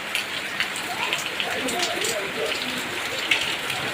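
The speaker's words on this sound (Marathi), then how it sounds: "बाहेर असा झिमझिम पाऊस चालू" Light rain patters steadily and softly on surfaces, making a fine, even hiss with faint scattered drops.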